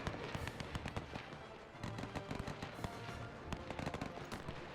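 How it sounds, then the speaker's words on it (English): Artillery cannons firing gas shells in the WW1 strategy game Between Empires, heard as a dense, continuous barrage of loud overlapping blasts and crackling bursts with no talk. "I'm ordering the cannons to fire gas"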